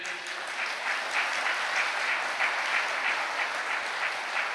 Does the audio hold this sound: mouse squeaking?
no